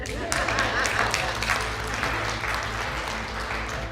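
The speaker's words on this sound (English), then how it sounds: "You guys can clap for that." Audience applause fills the room at a motivational talk, a steady wash of many hands clapping that holds at an even level throughout, fairly loud and close.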